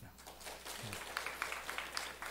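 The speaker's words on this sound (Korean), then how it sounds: "박수 한번 주십시오." Members of a church congregation clap during a Korean morning worship service, a soft, distant patter of applause over room noise, fairly faint throughout.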